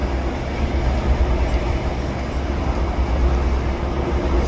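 Freight train of loaded hopper cars rolling steadily past close by, a continuous rumbling roar with a rhythmic wheel clatter running throughout.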